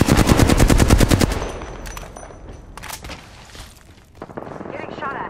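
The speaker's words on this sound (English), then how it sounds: "Getting shot at." Gunfire from the battle royale game Apex Legends: a loud, rapid automatic burst for over a second, then scattered single shots and further cracks farther off amid game noise.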